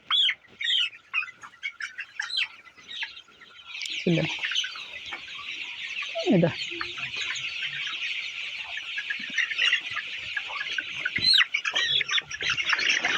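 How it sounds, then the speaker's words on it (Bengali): A flock of young broiler chickens on a poultry farm clucks and squawks in dense, overlapping chatter, growing louder as birds are caught. A person speaks briefly near the start. "আরও দুইটা মুরগি ধরবো"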